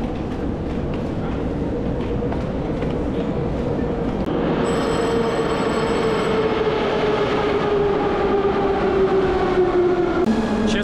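A Moscow metro train with old-style carriages rumbles steadily along the tracks, with wheels squealing and a rising metallic whine as it runs, heard from inside the carriage.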